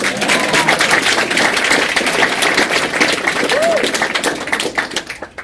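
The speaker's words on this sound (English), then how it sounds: "Yes, a round of applause for that." A convention panel audience breaks into applause for a panelist's award-winning comic, a dense burst of clapping with a few brief voices mixed in, fading toward the end.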